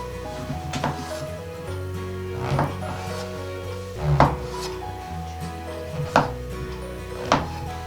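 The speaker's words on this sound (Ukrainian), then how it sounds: "Для початку я наріжу гриби." Knife strokes slicing mushrooms thud on a wooden board at a slow, uneven pace, about six cuts, close and distinct over faint background hum.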